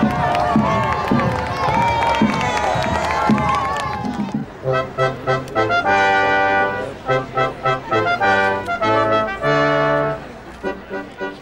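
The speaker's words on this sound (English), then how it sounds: "As King William made his way through the crowd, there was a merging of the 17th and 20th centuries" A crowd cheers and shouts at a ceremony in Carrickfergus marking King William's 1690 landing, loud and dense for about four seconds before rhythmic music takes over.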